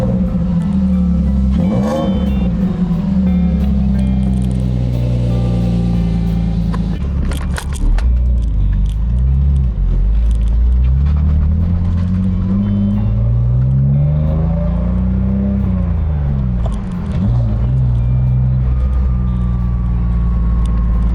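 A K-swapped car engine runs loud and steady, with several rising and falling revs, including sharp blips around the middle of the clip, under a continuous idle rumble.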